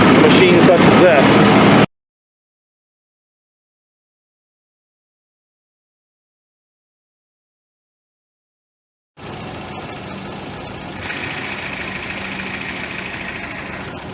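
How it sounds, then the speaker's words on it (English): A brief burst of noise, then silence, followed by the low, steady idle of a vintage Allis Chalmers D17 Series 3 gas farm tractor engine with a faint rattle, running evenly without talk. "that's the Allis Chalmers D17 Series 3 gas tractor"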